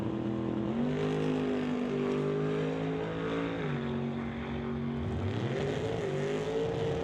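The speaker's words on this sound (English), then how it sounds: "the 1967 Chevy Camaro will be on a solo pass in qualifying" 1967 Chevy Camaro on a solo drag racing qualifying pass: a steady, loud engine drone holding its pitch with a few dips and climbs as it shifts, heard from a distance, with no talk.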